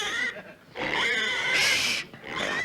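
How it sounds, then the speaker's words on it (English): A small pig, a chubby little piglet, squeals and grunts in several loud, shrill bursts close by, with brief pauses between outbursts. "Come on, stop squealing."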